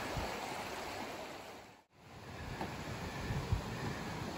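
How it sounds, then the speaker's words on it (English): Laurel Fork Creek flowing along a backpacking trail in the foothills, a steady broadband rush of moving water heard close and alone, with a brief dip midway and no voices. "The trail follows this really charming section of Laurel Fork Creek."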